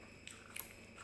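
A crunchy bell pepper is bitten up close, giving two or three quick, faint crisp crunches with light chewing.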